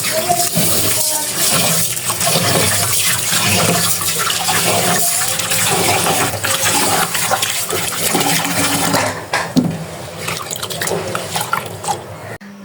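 Tap water runs steadily and loudly as broken rice grains are rinsed in a kitchen, with splashing, trickling and dripping, easing to intermittent drips and clinks near the end.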